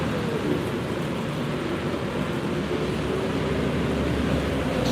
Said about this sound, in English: Ooh, it's raining now.